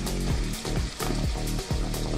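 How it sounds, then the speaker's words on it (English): Steady crackling sizzle of pre-boiled vegetables frying in a pan, punctuated by rhythmic clattering from stirring or tossing. "Now I'm frying the veggies."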